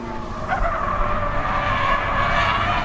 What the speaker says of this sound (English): I heard the tires screeching